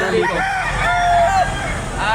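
Rooster crowing once in a long cock-a-doodle-doo at a Batangas gamefowl market, fairly close, with people talking and murmuring underneath.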